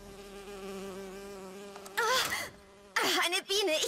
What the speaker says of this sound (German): Oh, eine Biene. Ich hasse diese Viecher.